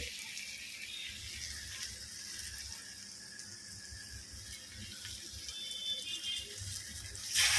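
Tamarind water poured into a simmering pepper and dry ginger curry, a faint steady watery pour with a soft sizzle underneath, swelling slightly at the end.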